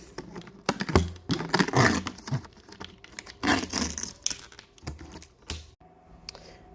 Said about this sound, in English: So we're just peeling this off.